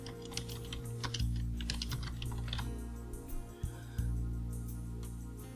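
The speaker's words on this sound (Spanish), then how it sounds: "Y como ya está seleccionado, podemos escribir directamente." Someone types on a computer keyboard while writing text in a LibreOffice Writer drawing, with quick clusters of close, crisp key clicks over a steady low electronic hum, then a pause with a few isolated clicks.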